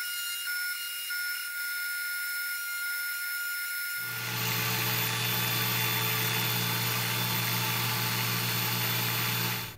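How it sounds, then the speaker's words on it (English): A disc sander shaping small wooden inlay pieces held in pliers switches on partway through. A steady, close whine and hum follows, rising from a quieter background. "holding a pair of pliers effectively, I am shaping them using the disc sander"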